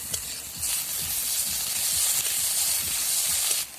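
Onions frying in oil until reddish-brown in a home kitchen pan, for Malabar spinach leaf chops, give a steady, close hiss and sizzle that holds at an even level throughout and cuts off near the end.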